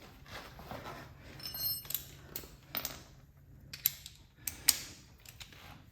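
A ratchet wrench clicks in short, uneven bursts while bolts are tightened on Harley-Davidson foot pegs or floorboards, the sharp metallic ticks close by with brief pauses between strokes.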